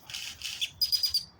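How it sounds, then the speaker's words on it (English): A wild bird sings outdoors in a quick series of bright, high chirps and tweets, close and clear, with several sharp notes bunched toward the end. "Yeah, he's singing his song."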